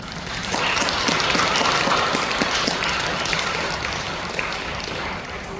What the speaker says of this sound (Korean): 감사의 마음을 담은 큰 박수